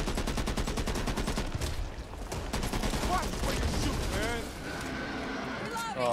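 Gunfire-like bangs crackle through a Back 4 Blood co-op session on Xbox, a loud, dense run of rapid pops like firecrackers under busy game sound and effects.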